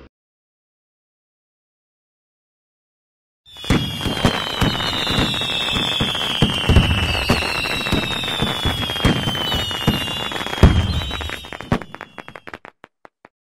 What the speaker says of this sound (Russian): салют небольшой.